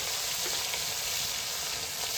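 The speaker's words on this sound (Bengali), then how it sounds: "তেল গরম হয়ে গেছে, এখন কাতলা মাছ ভাজবো।" Katla fish fries in hot oil in a village kitchen, a steady close sizzle and crackle throughout with no talking.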